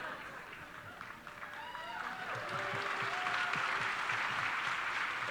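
Audience at a Chicago political talk event applauding and cheering, a crowd roar of clapping that swells and grows louder, with voices mixed in.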